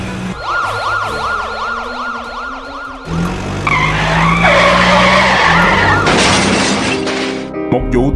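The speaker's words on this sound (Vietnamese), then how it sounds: "chiếc xe cấp cứu chở thầy Herocry đã tông phải một chiếc xe tải đang chở hóa chất" Animated Minecraft-style ambulance with wailing siren skids and crashes into a truck carrying chemicals: a loud siren sweep, then screeching tires and a shattering, crunching impact with lingering debris noise, all without speech.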